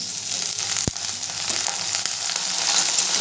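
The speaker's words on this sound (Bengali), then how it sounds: "এরপরে দিয়ে দেবো লাউ শাকের ডাঁটাগুলো।" Bottle gourd stems added to potatoes already fried red in oil in a pan, giving a steady close sizzle with one sharp knock partway through and light stirring scrapes.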